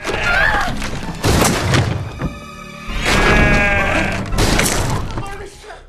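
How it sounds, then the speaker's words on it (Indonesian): Sheep bleat outside a house in a zombie film, several wavering calls rising over a narrator's voice and dull thuds, close and fairly loud. "di luar rumah sudah ada beberapa domba yang berkumpul"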